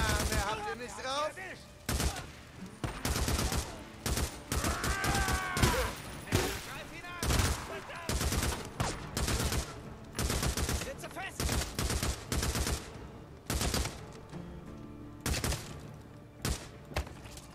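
Gunfire in Days Gone, a dense run of sharp, loud shots fired in rapid bursts and short pauses across the whole stretch, with a voice talking over the shooting at times.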